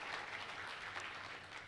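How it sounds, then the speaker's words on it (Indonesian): Congregation applause in a church service, a dense, steady wash of clapping lasting under two seconds, fairly faint and even, with no voices over it. "Tepuk tangannya boleh yang paling meriah buat Tuhan kita."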